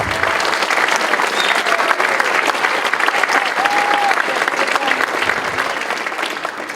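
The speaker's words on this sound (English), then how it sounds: "please give a huge round of applause to Gary." Large audience in a hall giving loud, sustained applause at a high school math league tournament, dense clapping with a few whistles and cheers layered over the crowd.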